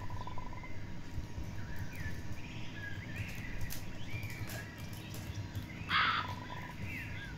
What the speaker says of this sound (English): please ignore that pigeon